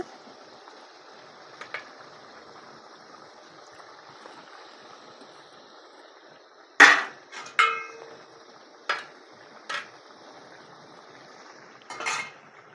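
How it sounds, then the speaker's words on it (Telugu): Bottle gourd pieces are tipped into a pot of village-style chicken curry. A quiet stretch gives way to a few sharp metallic clatters and knocks of spoon against pot, spaced a second or so apart. "ఇప్పుడు ఈ సొరకాయ ఒక్కల్ని మొత్తం ఇందులో వేసుకోవాలి"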